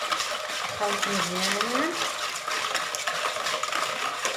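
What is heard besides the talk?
stirring cake batter for lemon cake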